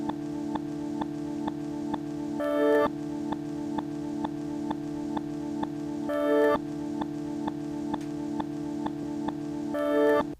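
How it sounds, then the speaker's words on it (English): A reversed record sample looped as a quarter note repeats three times, a sustained tonal chord ending each pass in a brief rising swell, steady and even with no voices. "I basically looped this quarter note and it sounds like this."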